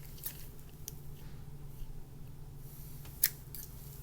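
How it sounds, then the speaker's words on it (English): Quiet, close snips of scissors cutting material during a resin crafting session, a few brief crisp clicks over low background hum. "Good thing I got some scissors right here."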